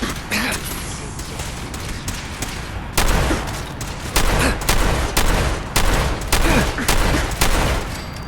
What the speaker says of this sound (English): I'll just use the shotgun.